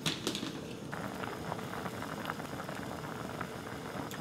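Rice cake soup (tteokguk) boils in a pot, a steady, quiet bubbling and popping close by with no talking.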